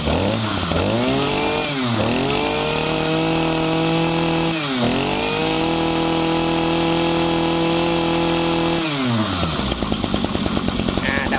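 A Kyoritsu 27cc two-stroke brush cutter engine pulls over and catches, then runs steadily with a loud, buzzy drone that dips and revs back up several times, close by and alone.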